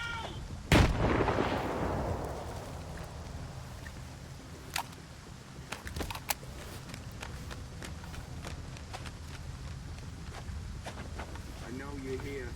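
A grenade explodes in the S.T.A.L.K.E.R. 2 video game, one loud blast with a long rumbling decay, followed by scattered sharp cracks and shots over a steady ambient bed; a voice shouts briefly near the blast.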